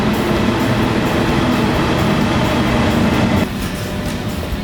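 Loud, continuous rumble and rattle of a train travelling to Seoul, heard from inside the carriage; the steady roar drops slightly in level near the end.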